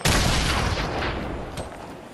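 Rapid, dense gunfire in the Fortnite battle royale game, a loud continuous fusillade of shots with a sharp burst at the end.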